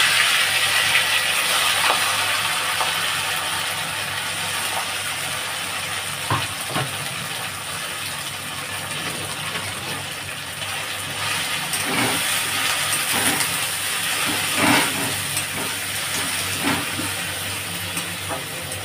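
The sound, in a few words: fish kachuri frying in hot oil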